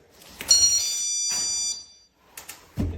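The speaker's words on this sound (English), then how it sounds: "This is the chime alert." A GE personal security window and door alarm gives its chime alert, a loud bright multi-tone electronic chime ringing steadily for about a second, followed by a few short clicks and handling bumps.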